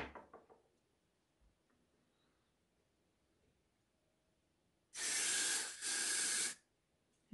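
An aerosol can sprays at a homemade DIY face mask in two loud, steady hissing bursts, separated by a brief pause, after a quiet stretch with a few small handling noises.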